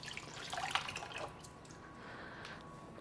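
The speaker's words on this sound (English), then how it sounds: "let me just rinse my hands real quick" Hands rinsed under a running kitchen tap give a soft patter and trickle of water, splashier at the start and settling into a faint, steady flow.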